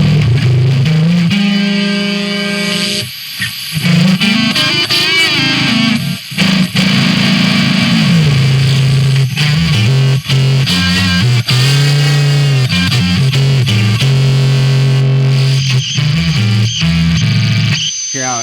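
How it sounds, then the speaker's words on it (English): A loud, heavily distorted electric guitar plays sustained chords and sliding notes continuously, with a gritty, saturated tone. "the amount of distortion that this signal has is directly connected to how high you have the drive set"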